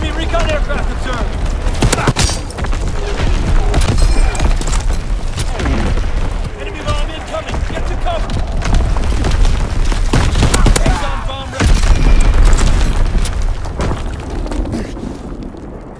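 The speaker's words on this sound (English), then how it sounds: "Incoming enemy artillery! Get to cover!" Artillery explosions and gunfire in the Call of Duty WWII video game form a dense, continuous barrage of booms and shots, with shouted voices heard amid the din.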